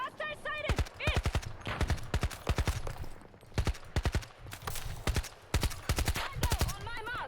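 Battlefield 2042 gunfire crackles in rapid, evenly spaced bursts of sharp shots, some bursts near and loud, others quieter, with in-game voices calling out between them.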